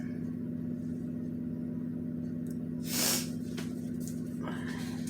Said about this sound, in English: Sorry, I got a little sniffles.